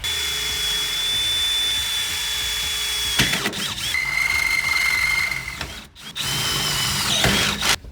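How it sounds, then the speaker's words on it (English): A power drill bores holes through the metal rocker panel of a Ford Transit van, with a drill stop limiting the depth. It runs in steady whining bursts with brief pauses between the holes, loud and close, and no talk over it. "I am using a drill stop on both of these holes, so you can make sure that I'm not going to go into the trim behind this."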